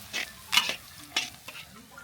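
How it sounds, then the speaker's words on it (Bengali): Onions fry in oil in a pot, with several scraping stirs and brief clinks of a spoon against the pan over a soft sizzle and no talking. "পেঁয়াজটা তেলে ভাজে নিয়ে তার মধ্যে মাখা মাংসটা দিয়ে কষিয়ে নিব"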